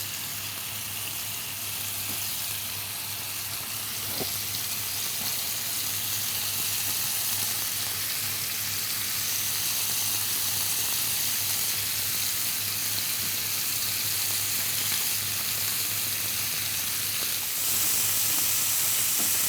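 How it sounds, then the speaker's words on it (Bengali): Chicken and prawns frying in oil in a pan for mixed noodles, a steady, close, loud sizzle with a constant hiss that runs unbroken throughout. "এটা আগে ফ্রাই করে নিচ্ছি যাতে টেস্টটা ভালো আসে"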